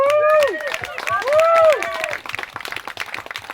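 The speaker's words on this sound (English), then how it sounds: "a huge round of applause" A wedding crowd claps and applauds loudly while voices whoop and cheer over the top; the clapping grows more scattered toward the end.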